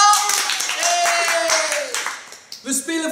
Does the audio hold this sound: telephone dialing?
no